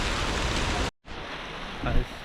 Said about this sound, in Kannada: ಮಳೆ ಅಂತ ಏನು ಕಮ್ಮಿ ಆಗಿಲ್ಲ, ಲೈಟಾಗಿ ಬರ್ತಾನೆ ಇದೆ ಮಳೆ